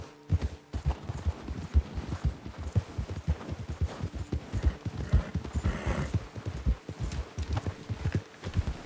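A horse gallops in Red Dead Redemption 2, its rapid rhythmic hoofbeats pounding steadily and close for several seconds, with a brief snort or whinny-like breath partway through.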